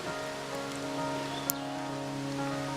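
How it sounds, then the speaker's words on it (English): A light rain sprinkle falls outdoors in a moss-covered graveyard, making a soft, even patter under steady droning tones from the surroundings, with one brief sharp tick near the middle. "Maybe starting to rain on me. A sprinkle right there."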